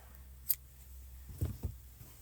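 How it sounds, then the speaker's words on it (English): Scissors trim crochet yarn with a few short, close snips: one crisp cut near the start, then two quick soft snips a moment later, with no talk over them. "And then take our scissors and trim it off."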